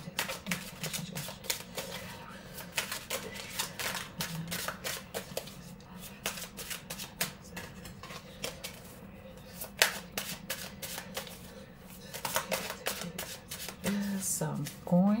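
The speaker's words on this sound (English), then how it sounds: "I'm going to shuffle the cards, put some energy in them" Tarot of the Abyss cards are shuffled in rapid, crisp riffling bursts that repeat with short pauses, close to the microphone, over a quiet murmur of voice.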